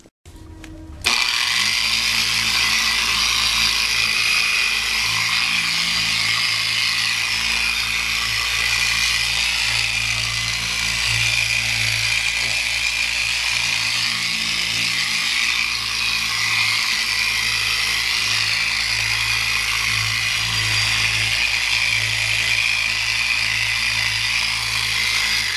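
A power buffing wheel polishes 35-year-old car paint, a loud steady whine that runs without pause close up, with a constant low motor drone underneath.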